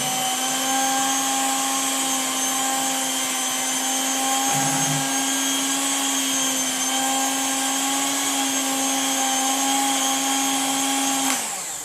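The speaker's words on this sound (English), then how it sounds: "I'm going to pause the mixer a minute to get my spoon." An electric mixer beating cream cheese with sweetened condensed milk for mini cheesecakes: a loud, steady motor whine that holds a constant pitch throughout and cuts off at the end, with no talking.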